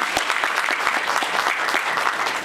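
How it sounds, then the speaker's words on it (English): A law school alumni honors audience breaks into loud, dense applause that holds steady throughout. "Can we give her a round of applause?"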